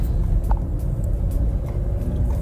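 A car drives steadily along an Indonesian toll road, the Cipali toll, giving a continuous low road rumble and tire noise heard from inside, with no talk.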